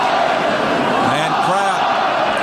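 A large stadium crowd at the MCG for the 2002 AFL Grand Final between Brisbane Lions and Collingwood in the rain roars as a broad, steady wash of noise beneath close radio commentary.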